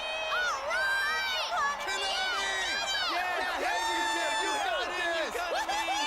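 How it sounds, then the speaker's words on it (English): A crowd cheers and whoops in Persona 4: Dancing All Night, many voices shouting and calling out together at a loud, continuous level, with excited individual shouts rising above the mass. "they're cheering for Konami-san"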